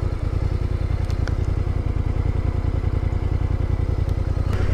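Motorcycle riding through the jungle, a close, continuous rapid engine chug with a clattering mechanical rattle, loud and steady, with no talking.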